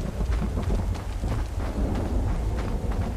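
Thunder in the Devour horror video game: a continuous heavy rumbling roar with a rain-like hiss, loud and steady for about three seconds, with no voices.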